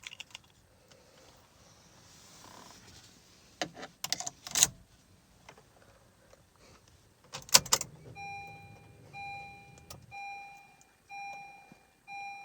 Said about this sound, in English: So now let's start the car with the door closed.